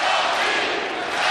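Home crowd cheering at a Miami Heat versus New Orleans Pelicans basketball game in Miami, a loud dense roar of many voices filling the arena, sustained evenly for a brief moment.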